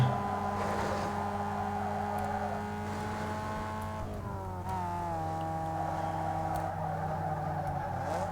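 A car engine hums steadily in the racing video game Need For Speed Underground 2, its pitch shifting through gear changes, loud and continuous with no voices.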